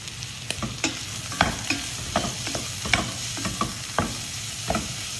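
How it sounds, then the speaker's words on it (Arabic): Onions and mushrooms fry in a pan for a stuffed mushroom filling, sizzling steadily while a utensil stirs and taps against the pan in a loose, regular rhythm, with no voices. "نحمرهم ونحط عليه قليل من الملح"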